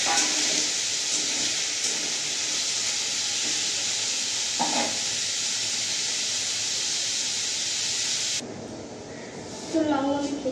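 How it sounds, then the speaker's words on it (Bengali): Bitter gourd hits hot oil in a kadai, giving a loud, steady sizzling hiss that holds for several seconds, then drops away sharply, followed by a few faint clinks and stirs near the end. "কড়াইয়ে আমি তেল দিয়ে দিয়েছি আর এই উচ্ছে ভাজাটা আমি ছেড়ে দেবো এবারে।"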